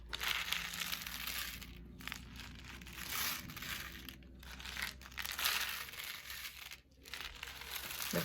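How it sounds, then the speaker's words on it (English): A homemade cardboard-tube rain stick filled with corn kernels is tipped slowly, giving a continuous close-up patter and rustle of kernels trickling down inside, swelling and easing in waves with brief lulls as it turns. "here I am with my finished rain stick"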